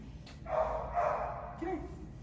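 A dog gives a short series of close barks and yips while meeting a cat indoors, with a person talking nearby.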